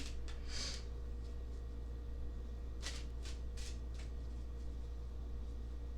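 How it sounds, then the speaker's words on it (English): A deck of tarot cards is riffled and shuffled in a few soft, quick bursts over a steady low background hum, with no talking. "I'm going to give this third deck another shuffle here"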